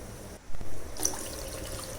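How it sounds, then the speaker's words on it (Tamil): Water splashes and gurgles as it is poured from a vessel into a pot of tamarind-free rasam with curry leaves, turmeric, rasam powder, asafoetida and crushed garlic, a short close pour with no talking. "வேணுன்ற அளவுக்கு தண்ணியை விட்டுக்கிட்டாச்சு"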